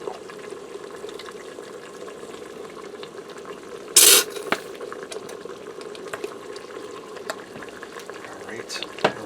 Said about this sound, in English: I'll turn my pressure cooker off because that's cooking up pretty good there.